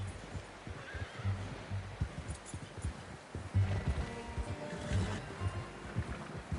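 A horse in the video game Red Dead Redemption 2 whinnies amid hoof clops and low ambient background noise, with short neighing bursts rising over steady game atmosphere.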